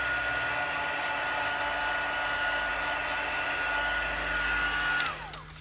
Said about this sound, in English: I'm going to run my heat tool over the top of it.